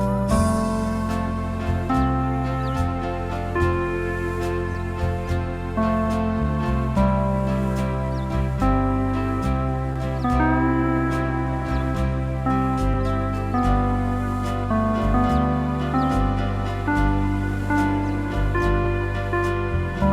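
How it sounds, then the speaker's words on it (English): An EZ4 organ plays in its Aloha Hawaiian rhythm style, with steady rhythmic bass under layered sustained chords and melody. The music is loud and continuous throughout, with no talking. "I have the Aloha Hawaiian rhythm."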